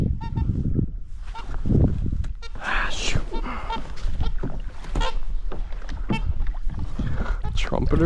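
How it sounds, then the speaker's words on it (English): Trumpeter swans call with honking notes in a marsh during a kayak duck hunt, heard amid water and paddling noise with a voice talking over them throughout. "Trumpeters."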